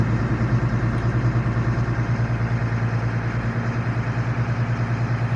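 FMTV military truck engine held at high idle, a steady, even diesel drone that continues unchanged throughout with no speech.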